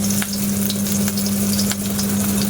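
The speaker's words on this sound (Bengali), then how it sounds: "তো তেলটা গরম হয়ে গেছে, আমি ওর মধ্যে কিছুটা পেঁয়াজ কুচানো দিয়ে দেবো, রসুন কুচানো, কাঁচা লঙ্কা কুচানো" Chopped onion, garlic and green chili sizzling in hot mustard oil, a loud, dense, continuous hiss close up with a few sharp crackles and a steady low hum underneath.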